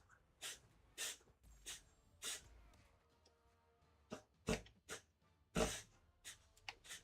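A dog makes a series of short, sharp snorts and huffs, as if trying to sneeze, about a dozen bursts spaced irregularly with quiet breathing between them, close and moderately loud.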